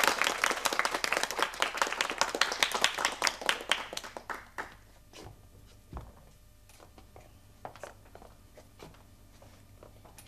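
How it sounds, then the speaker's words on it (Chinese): An indoor audience on a 1982 Hong Kong TV sitcom set breaks into loud, rapid group clapping that thins after a few seconds into a few scattered, fading claps. "我哋拍手掌歡迎梁小姐。"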